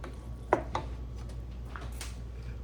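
Hamburger meat and rice being stirred together in a pot with a utensil: a couple of soft scraping knocks against the pot followed by quieter rubbing and shuffling, close and low over a steady background hum.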